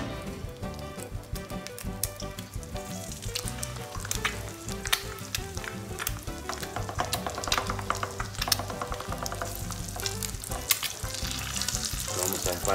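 An egg fries in hot butter in a pan, giving a steady, dense sizzle with crackling pops throughout, close and fairly quiet.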